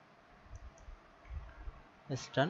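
Soft, faint keystrokes on a computer keyboard tap in a loose, irregular rhythm while someone types into a web browser, and a voice begins speaking at the end.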